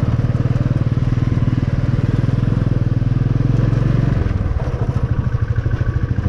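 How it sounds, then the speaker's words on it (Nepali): A motorcycle ridden off-road along a dusty track near Yasok bazaar, its engine thumping in a fast, steady pulse, loud and close throughout. "यहाँ चाहिँ अफरोडमा हाम्रो लेडी राइडर हुनुहुँदो रहेछ लेडीले बाइक राइडर हुनुहुन्छ"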